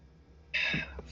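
A single sharp sneeze bursts out mid-clip after a quiet stretch, loud and close, followed by a short throaty tail, during a tabletop roleplaying session.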